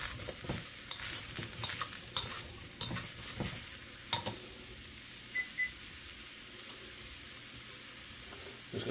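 Bok choy stir-fried in a pan on an electric stove, with soft sizzling under repeated scraping and clinking of a utensil against the pan, fairly quiet and close, spaced irregularly with a few sharper knocks.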